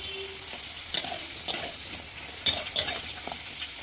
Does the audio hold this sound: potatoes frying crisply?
yes